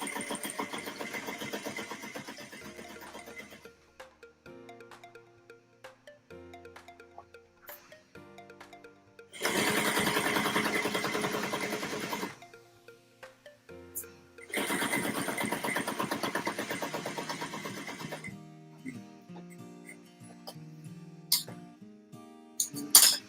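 A sewing machine stitches a zippered baby bag in three short whirring bursts, each separated by quiet pauses and faint handling clicks, heard up close.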